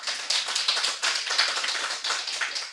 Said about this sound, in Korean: 박수 좀 한번 쳐드려.